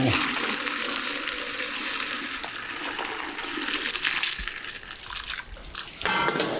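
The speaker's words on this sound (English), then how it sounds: "Right, so let's drain the pasta." Cooked pasta being drained as its water is poured out, a steady rushing, splashing pour that continues for several seconds with brief clatter near the end.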